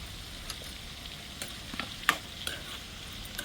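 Chopped tomatoes, a quarter kilo, dropping into hot oil already in the pan with dried red chillies, giving a steady soft sizzle with a few light stirring scrapes and small crackles, close and alone without talk.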